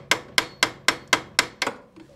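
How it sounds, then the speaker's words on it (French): Small hammer tapping on a brake caliper during a car repair, six sharp, evenly spaced metallic blows at close range with a faint seventh, no voices. "On en parle du petit coup de marteau à côté"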